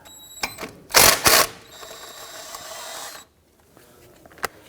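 A ratchet loosening a brake hose bolt at the bottom of a strut on a 2017-2020 Hyundai Elantra, a loud burst of fast clicking followed by a softer whirring stretch, then near silence and one final sharp tick.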